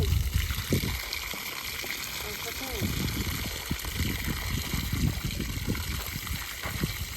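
Water trickles and pours into basins around newly planted saplings on farmland, a continuous flowing splash with a person talking over it.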